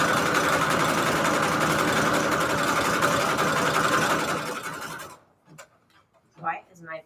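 Sewing machine stitching Christmas fabric pockets runs steadily with a loud, rattling bobbin for several seconds, then stops abruptly, leaving soft handling noises and brief low talk.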